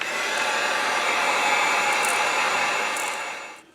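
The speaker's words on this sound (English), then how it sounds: "let's get out the heat gun and dry this really good before we put a stencil on it" Heat gun drying paint on a fishing lure, a steady loud whirring blower hiss held for several seconds before winding down and cutting off at the end.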